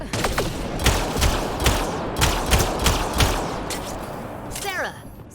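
Rapid bursts of sci-fi gunfire from a Mass Effect Andromeda firefight, repeated volleys and thumps crowding the whole span, loud and close, with battle noise and a closing whoosh.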